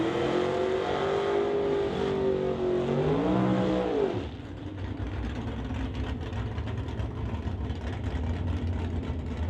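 A drag racing car engine at an NHRA Summit ET Series race, revving hard with a rising and falling pitch, then dropping to a lower rumbling idle, close and loud.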